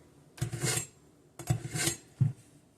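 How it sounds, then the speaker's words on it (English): A kitchen knife drawn through a knife sharpener, three rasping strokes at close range, each a gritty scrape lasting about half a second, the last one shorter. "This is my sharpener, so I run it through."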